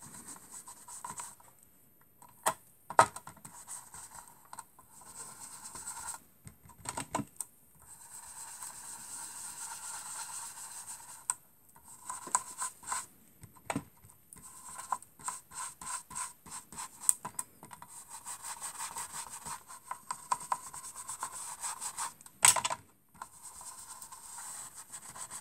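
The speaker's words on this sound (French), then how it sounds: "Je vais prendre ma brosse verte. Et je vais faire en vert." Brush strokes with green paint on a surface, soft rubbing and scratchy scraping in short intermittent bursts separated by quiet gaps, close and faint with no talk.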